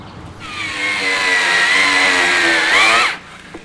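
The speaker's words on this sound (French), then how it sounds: "Une bonne vieille foreuse qui a du couple et une scie cloche." A high-torque power drill with a hole saw whines up to a steady, high-pitched drone for a few seconds, then rises briefly in pitch and cuts off. The sound is loud and close.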